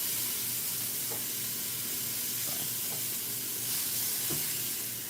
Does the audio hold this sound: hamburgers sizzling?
yes